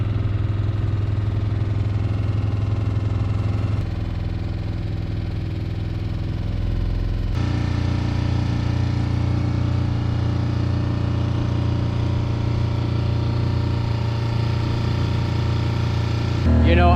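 A sailboat's auxiliary motor runs steadily while the boat leaves an anchorage at Benjamin Islands, giving a loud, constant idling drone with a low vibrating hum. It carries on unbroken for the whole stretch, close and alone.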